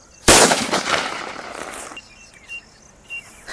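A single powerful Diwali day firecracker bursts with a sharp loud crack, followed by a crackling, decaying tail and a few faint sparkling pops afterward.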